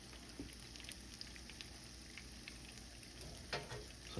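Salmon cakes frying in a pan, a faint steady sizzle and crackle with occasional small pops, heard alone at low level.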